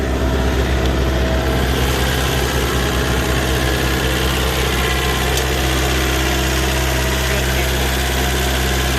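The Isuzu four-cylinder diesel engine of a HANTA asphalt paver, about 2.5 m paving width, running at idle. It is a loud, close, unbroken low rumble with a constant mechanical hum and no voices.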